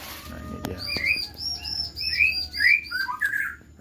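Bright, varied calls and whistles from white-rumped shamas in an aviary, in quick succession, close by and fairly clear, with a short knock near the start.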